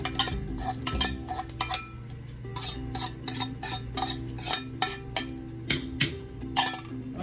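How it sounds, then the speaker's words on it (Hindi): A metal spoon stirs cream into a milk dessert mixture for doodh dulari in a bowl, clinking against the sides in a quick irregular rhythm of sharp taps, close and clear over a low background hum. "अच्छी तरह से इसको मिक्स कर लेंगे।"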